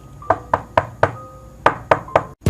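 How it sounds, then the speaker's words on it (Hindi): Knocking at a house door: a run of sharp, evenly spaced raps, seven or eight in a little over two seconds, close and fairly loud over a quiet room hum. "तभी उसके दरवाजे पर खटखटाने की आवाज आती है"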